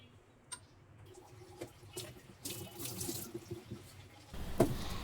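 Mangoes being washed under a running kitchen tap: water splashes and patters into a sink with small handling knocks, fairly quiet and close, ending with a stronger gush.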